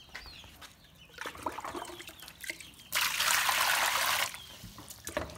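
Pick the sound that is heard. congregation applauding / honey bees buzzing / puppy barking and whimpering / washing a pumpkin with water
washing a pumpkin with water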